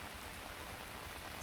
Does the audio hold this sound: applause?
no